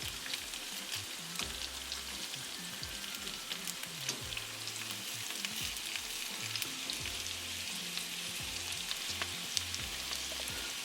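Taro root pieces coated in masala frying in a pan while being turned over: a continuous close crackling sizzle with light scraping and tapping from the turning, and no voices.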